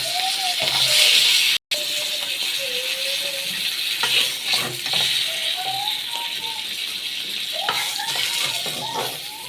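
Hilsa fish sizzling in oil in a kadai: a steady frying hiss with occasional clinks and scraping of a utensil, close and continuous, with a short break partway through.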